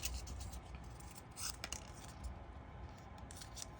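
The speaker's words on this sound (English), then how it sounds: "I might have to end up cutting more petals." Scissors snip through paper flower petals for a dahlia craft, giving soft, close cutting and scraping sounds that repeat a few times against a faint background hiss.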